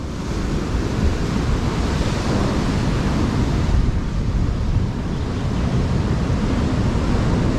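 Steady rushing surf from ocean waves washing onto Seruni Beach, Pacitan, Indonesia, a cove flanked by limestone karst hills, loud and continuous, with wind buffeting the microphone.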